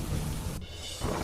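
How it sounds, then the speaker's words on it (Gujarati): Heavy downpour over rural villages near Mahuva under dark clouds, a dense loud continuous roar of rain with a low rumbling thunder-like undertone, briefly dipping midway. "મહુવાના ગ્રામ્ય પંથકમાં કાળા ડિબાંગ વાદળો સાથે ખાબક્યો ધોધમાર વરસાદ"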